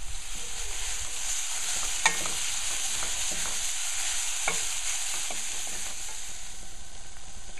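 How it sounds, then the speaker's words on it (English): Spices fry in oil for a beef brisket sauce, giving a steady bright sizzle with occasional stirring clicks and pops close by. "These are my spices, frying them in oil,"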